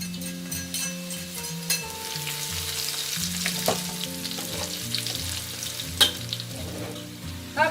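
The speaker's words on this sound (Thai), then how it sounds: "แล้วให้ลงไปทอดใหม่ครั้งนึงค่ะ" Pork rib naem refrying in hot oil, a steady loud sizzle and crackle with occasional sharp pops and scraping stirs, no voices.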